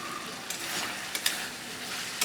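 Soybean curry with potatoes and garam masala frying in a pan, a soft continuous sizzle broken by a few light stirring scrapes and clicks, close but quiet.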